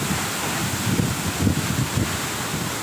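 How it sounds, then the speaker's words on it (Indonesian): Strong wind roars steadily at a neglected waterfall in a village, a loud continuous rush buffeting the microphone with gusty low rumbles and no speech. "anginnya sangat kencang sekali dari sini"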